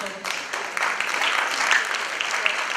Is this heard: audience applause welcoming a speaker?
yes